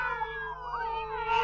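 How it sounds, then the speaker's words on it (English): A cat yowls in a long, wavering, drawn-out cry that rises near the end, close and alone over a faint background hum, part of a radio drama scene. "Cats swarm the walls and furniture, leaping and circling in a white maelstrom."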